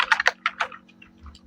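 Keystrokes on a computer keyboard typing into an Excel spreadsheet, a quick burst of about five close, crisp taps followed by a few fainter clicks, with a steady low electrical hum underneath.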